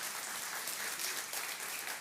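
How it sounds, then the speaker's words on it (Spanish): A church congregation applauding: steady, dense clapping from many hands, moderately distant and fairly soft, sustained without a break. "la gente aplaude cuando dicen, te van a demandar más"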